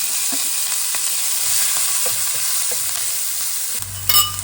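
Onion, chili, ginger and curry leaves fry in a hot tempering of urad dal, giving a loud, continuous close sizzle with faint stirring clicks and a clatter near the end.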